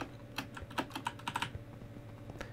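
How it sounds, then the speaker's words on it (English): Fast, loud clatter of computer keyboard typing at close range, a quick run of sharp key strikes that thins out to a few final taps. "Man, I gotta get a new keyboard. One that is not so loud."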